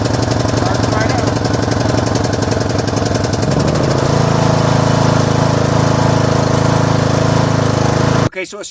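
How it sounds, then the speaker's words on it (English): A tractor engine runs just after a jump start from a Gooloo GTX280 portable power station, chugging loud and close with a steady knocking rhythm that settles into a smoother idle before cutting off abruptly near the end. "so it started the tractor up, no problem. Started it right up."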